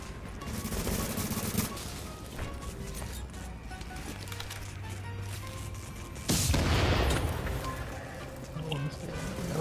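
Rapid gunfire and a loud grenade blast in The Division on PS4, bursts of automatic shots crackling throughout, then a heavy boom near the end, with players talking over the action.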